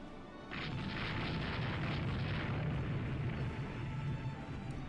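Naval guns bombarding a target in the warship game Rule The Waves 2, heard as a heavy sustained rumbling boom that swells in after a brief quiet moment and rolls on loudly without pause.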